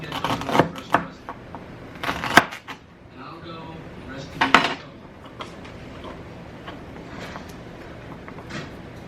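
Knife chopping ingredients for a sweet potato casserole, heard as a few sharp, close cutting knocks in the first five seconds. Softer kitchen clatter follows.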